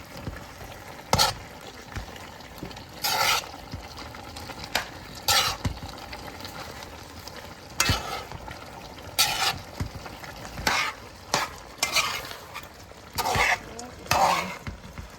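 Jamaican curry chicken is stirred in a pot, bursts of scraping and clinking from a spoon against the pot come in irregular strokes over a soft simmering sizzle, close and moderately loud, with no talk.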